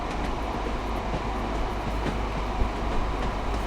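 Diesel passenger train in Train Sim World 5 on the Blackpool South to Ormskirk route rolling along, with a steady low engine rumble, wheel and rail noise and occasional soft clicks over joints, continuous and close.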